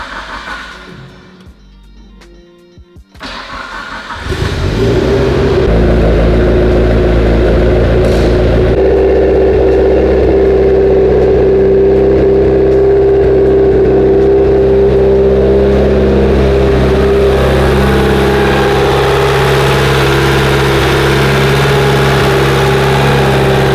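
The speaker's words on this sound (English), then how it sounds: "let's go ahead and see if it'll fire." A Mitsubishi Evo 9 engine makes its first start: a few seconds of quiet shuffling, then the engine cranks, fires loudly and settles into a steady, close, droning idle that holds to the end.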